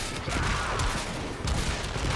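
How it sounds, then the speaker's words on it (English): In the sci-fi shooter Warframe, a weapon hit sets off a dense, continuous crackle of cluster explosions, like rapid fusillade bursts layered over a loud, busy din. "it has the initial hit and then it has a whole bunch of like auxiliary explosions, cluster explosions"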